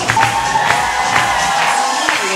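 A large crowd cheers and shouts continuously during the first round of international Latin at the Emerald Ball 2018 ballroom dance competition, with loud sustained whoops and yells filling the hall.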